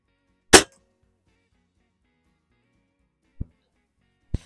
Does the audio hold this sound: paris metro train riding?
no